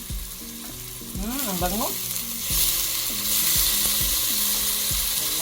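Tomatoes hit a very hot pot and sizzle loudly, with a spoon scraping and clanking as they are stirred; a voice briefly speaks over the frying.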